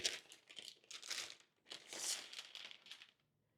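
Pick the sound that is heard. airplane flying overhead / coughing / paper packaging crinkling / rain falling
paper packaging crinkling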